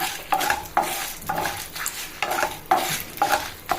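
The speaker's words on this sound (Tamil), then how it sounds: "மூணு வரமிளகா போட்டுக்கிறலாம் அப்படியே அதோட காஷ்மீரி மிளகா ஒரு ரெண்டு போட்டுக்கிடலாம் எல்லாம் சேர்ந்து நல்லா வதங்கட்டும்" Dried red chilies and Kashmiri chilies fry in a pan while being stirred, with repeated metallic scrapes of a spoon against the pan over a steady sizzle, close and fairly loud.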